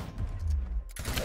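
Disabling shot in the game Gears Tactics, heard as a loud burst of gunfire with a low heavy rumble that cuts off sharply, followed by a new crackling impact right after.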